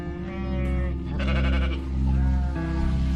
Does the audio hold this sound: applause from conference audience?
no